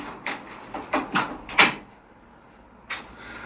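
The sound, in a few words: door being shut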